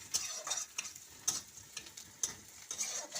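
Onion frying in a pan with a little salt, cooked until lightly browned, with repeated spatula scrapes and stirring strokes over a soft, low sizzle.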